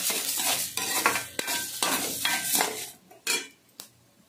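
Cumin seeds and fenugreek roast in a pan while a utensil stirs and scrapes against the metal, a steady close sizzle broken by clinks and scrapes that thin out toward the end, no talking.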